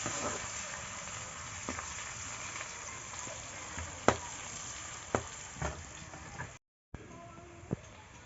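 Chopped onion frying lightly in a pan gives a steady, soft sizzle close by, broken by occasional sharp clicks and taps of stirring.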